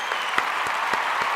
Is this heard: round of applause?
yes